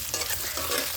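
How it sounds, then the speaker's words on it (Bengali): Eggs sizzle and crackle in hot oil in a pan, a brief, close, bright frying hiss with stirring scrapes and no voices. "দেখো ডিমগুলো ভাজা ভাজা করে নিই।"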